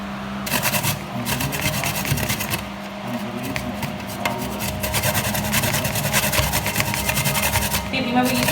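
Food is grated by hand on a kitchen grater in Jamaica. Rapid, rhythmic rasping strokes scrape steadily and close up, and speech can be heard alongside them.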